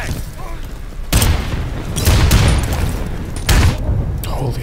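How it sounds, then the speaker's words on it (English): A frag grenade explosion in the tactical shooter Insurgency: a loud, sudden broadband boom lands mid-clip amid bursts of gunfire, with another heavy blast near the end and game noise throughout. "I'm throwing a frag!"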